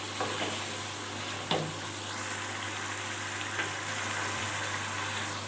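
Chicken is mixed and sautéed in a pot for biryani, with a soft, even sizzle under a constant low hum and an occasional clink of a spoon against the pot.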